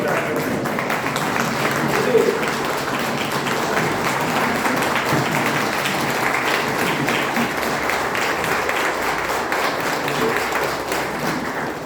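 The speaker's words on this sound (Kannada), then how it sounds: "ನಾವು ಚಪ್ಪಾಳೆ ತಟ್ಟುವುದರ ಮುಖಾಂತರ ಸಿದ್ದರಾಮಯ್ಯನವರಿಗೆ ನಾವು ನಮ್ಮ ಗೌರವ ಸಮರ್ಪಣೆಯನ್ನು ಮಾಡಬೇಕು" An audience applauds at a Lingayat gathering to honour Siddaramaiah, steady dense clapping from a crowd that carries on for several seconds and fades slightly at the end.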